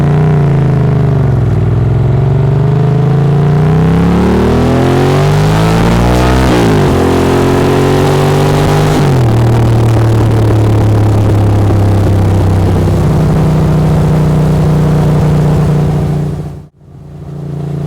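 A Ducati Monster 800ie motorcycle engine revs and accelerates through several rising pulls, loud and close, with a gear change dropping the pitch before a steady high-rev drone that cuts off sharply near the end.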